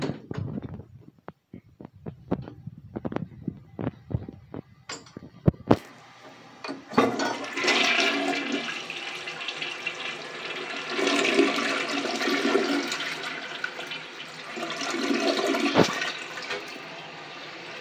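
A Mansfield toilet in a Big Lots men's restroom is flushed: a few sharp clicks and clunks of the handle, then a loud, steady rush of swirling water that surges and ebbs for about ten seconds, with no talking.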